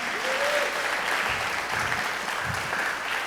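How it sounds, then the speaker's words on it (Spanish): A crowd at a church gathering in Querétaro claps steadily and warmly in welcome, a dense continuous wash of applause from many hands at moderate volume. "Con un fuerte aplauso les damos la bienvenida"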